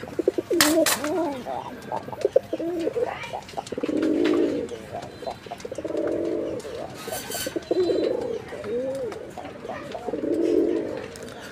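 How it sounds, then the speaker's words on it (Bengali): Desi Raj Golla pigeons coo repeatedly in low, throaty bursts at a steady rhythm, close by, with a few sharp chirps and some talking mixed in. "এই জোড়াটাও কিন্তু চমৎকার ডাক আছে, দেখতেই পাচ্ছেন আপনারা, ডাকের কবুতর"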